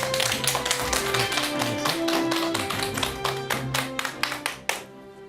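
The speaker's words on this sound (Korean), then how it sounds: "큰 박수 부탁드립니다." A small studio audience claps for a lecture guest, sharp close hand claps in a quick, irregular rhythm that thin out and stop near the end.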